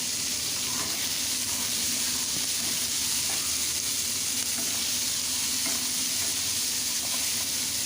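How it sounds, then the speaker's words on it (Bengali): Chopped onions frying in hot oil give a continuous, dense sizzle with faint scattered stirring scrapes, steady and close throughout. "পেঁয়াজটাকে আমি ভেজে নেব।"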